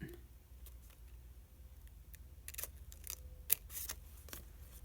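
Scissors cutting a paper craft frame with several faint crisp snips spread over a few seconds, close by in a quiet room.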